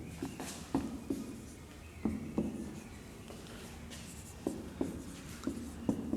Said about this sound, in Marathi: मी पुन्हा एकदा होल नंबर बोर्डवर लिहितोय.